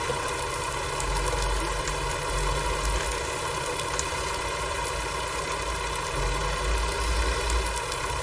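A tractor engine idles steadily during hay baling, a low, constant rumble with a slight throb, close and continuous, with no talking.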